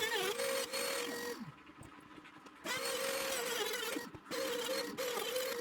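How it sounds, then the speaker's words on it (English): A router on a router table cuts a circle from whisky stave wood, whining loudly in long sustained bursts separated by quieter pauses where the motor winds down, with no voices. "I had to make the decision to go and try and use the router to give it a cleaner edge"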